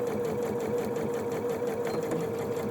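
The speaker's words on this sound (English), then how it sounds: "So as I'm sewing along, go a little bit faster. As long as I hold that in," A Janome DC6050 sewing machine stitching in reverse, a steady fast motor whir with a rapid needle rhythm, close and constant with no pauses.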